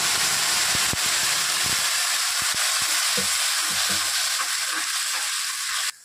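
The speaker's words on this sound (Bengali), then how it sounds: "এখন আমি এই যে বাটা মশলাটা দিয়ে দিচ্ছি।" Ground paste of onion, ginger, garlic, green and red chilli and tomato frying in a pan, loud continuous sizzle with sharp spoon scrapes and clicks as it is stirred, cutting off abruptly at the end.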